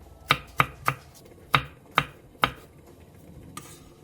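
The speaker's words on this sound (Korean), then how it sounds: "대파 3분의 1개와 청양고추 1개, 청양 홍고추 1개를 어슷썰게 해주세요" A kitchen knife slices green onion and chili peppers diagonally on a cutting board, giving six crisp, close chops at an uneven rhythm with no speech.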